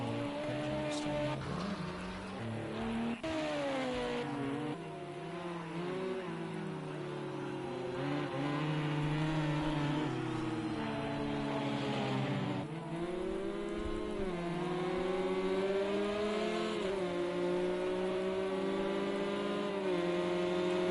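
Corvette race cars in a sim racing game, engines droning and shifting pitch continuously as the cars accelerate and change gears, loud and steady throughout with no pauses.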